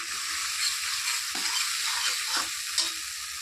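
Chopped tomato and prepared spice paste for a mung-bean dal dish fry in a pan, a steady sizzle with a few stirring scrapes, close and alone without talk.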